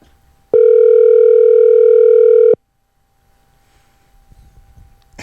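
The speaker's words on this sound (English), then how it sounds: "Come on, answer the phone." An outgoing telephone call gives one loud, steady ringback tone lasting about two seconds, followed by near silence and faint room noise.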